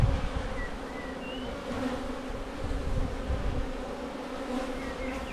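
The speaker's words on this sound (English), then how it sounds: "There's a good quantity of bees in there." Honey bees buzzing around an open hive during an inspection, a steady dense drone close by with a few individual bees whining past.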